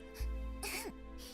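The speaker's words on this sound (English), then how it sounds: "She coughs." A young woman character in the video game Love Curse gives a short, close cough, a single throaty burst followed by a brief vocal tail.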